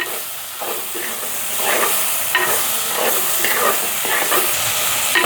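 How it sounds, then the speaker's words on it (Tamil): Small chopped tomatoes sauté in a hot pan, giving a loud, continuous sizzle and hiss with repeated scraping strokes of a spoon stirring them through. "அப்படியே சேர்த்து இப்படியே வதக்குவோம்"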